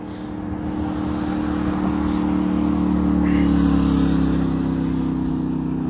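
Road traffic streams steadily past a riverside greenbelt along the Laramie River, a continuous close engine drone with one vehicle accelerating, loud and unbroken throughout.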